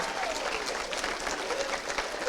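Audience applause at a school assembly talk, a dense, steady wash of clapping from a crowd filling the whole stretch without pause.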